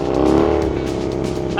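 Harley-Davidson Sportster engine on a rigid-frame custom chopper without rear suspension, riding a gravel road; a steady, loud, close engine drone with gritty, rumbling texture runs throughout.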